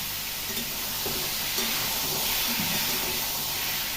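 Potatoes frying in hot oil in a home kitchen, a steady broadband sizzle and hiss holding evenly at moderate loudness throughout, with faint clicks of stirring underneath.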